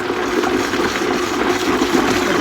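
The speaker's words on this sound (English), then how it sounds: "I'm just going to put the blender on here." A countertop blender runs steadily on tomatoes for canned sauce, a loud, continuous churning whir with a wet, sloshing edge and no talking.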